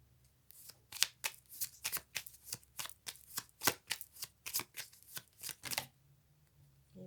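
A deck of tarot cards is shuffled close up, a rapid even run of crisp papery riffles lasting several seconds, fairly quiet, with no voices.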